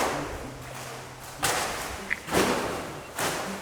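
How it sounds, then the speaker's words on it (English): Several sharp, loud firecracker bangs go off one after another in Nakhon Si Thammarat, Thailand, each a broadband burst with a short tail, separated by pauses over a low background hum. "we're very lucky to be witnessing them lighting up the firecrackers"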